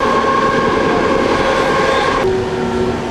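A light rail train rolls into a station with a loud, steady rumble of wheels and traction hum, a brief sharp squeal marking a shift as it slows, heard close up without any talking.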